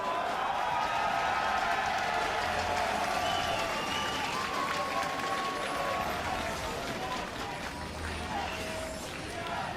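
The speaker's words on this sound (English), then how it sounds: "as you can hear the crowd chanting" Esports arena crowd at a League of Legends North American LCS semifinal between Counter Logic Gaming and Team Impulse, a steady roar of massed voices and clapping that fills the whole stretch at moderate distance.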